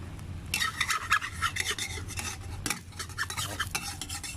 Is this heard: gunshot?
no